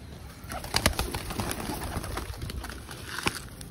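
Pigeons cooing as they gather to eat scattered feed, soft repeated throaty coos mixed with light pecking and rustling close by, with no talking.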